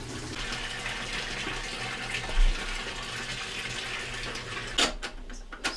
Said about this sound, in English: now we're just going to fill it up with water